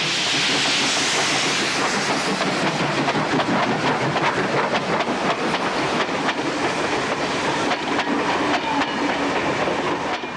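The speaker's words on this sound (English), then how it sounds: "October 1964 sees 3245 heading across the bridge with the westbound goods for Narromine." New South Wales steam locomotive 3245 hauls a westbound goods train across a bridge in 1964, a loud, continuous hissing roar with rapid rhythmic wheel clatter and chuffing sustained throughout.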